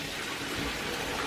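Cooked noodles drained through a colander in a home kitchen, a steady, dense rush of pouring water and splashing that continues without a break.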